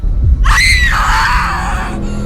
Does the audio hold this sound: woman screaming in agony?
yes